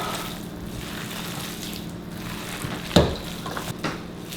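Sausage meat is worked by hand with cheese and jalapenos, giving a steady wet squishing and kneading close up, with one sharp slap near the end and a few softer knocks after it.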